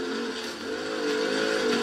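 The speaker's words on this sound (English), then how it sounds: "I love that siren." A wailing siren on a pursuit car in the racing game Forza Horizon 3 sounds steady and loud over a continuous engine drone, its pitch wavering slightly as it holds.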